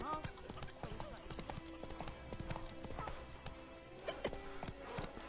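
Roach the horse gallops in The Witcher 3, a rapid rhythmic clip-clop of hooves pounding steadily throughout, with game sounds and a voice speaking over it at moderate, fairly quiet level.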